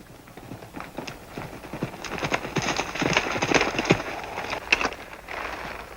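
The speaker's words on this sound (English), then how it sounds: "I see my Indian friend's horse." Horse hooves clip-clopping in a western adventure series, a run of distinct, fairly close hoofbeats that grow louder and denser before easing, with faint voices underneath.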